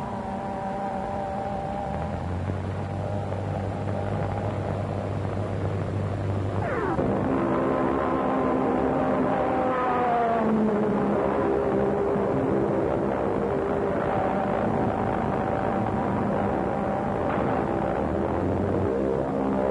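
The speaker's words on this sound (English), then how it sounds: "Planes dropping down on us." Early-1930s aircraft diving in flight, engine drone holding steady and then sweeping sharply downward in pitch as the planes drop, with a second descending whine following, loud and fairly near against a constant hum.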